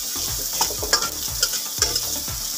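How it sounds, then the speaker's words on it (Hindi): Onions fry in a pan for Maggi noodles, a loud close sizzle with rhythmic stirring scrapes about every half second and no voices. "प्याज को हम फ्राई कर लेंगे।"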